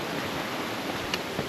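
A steady, full rushing roar of a waterfall by swimming holes on the Appalachian Trail, constant and close, with no voices.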